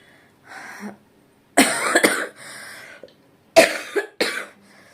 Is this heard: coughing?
yes